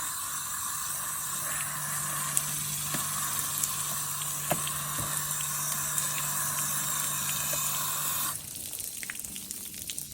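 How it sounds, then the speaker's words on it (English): Catfish fillets are rinsed under a steady running tap, a continuous close hiss of flowing water with faint clinks, the stream changing tone sharply near the end. "Rinse these fillets a little bit."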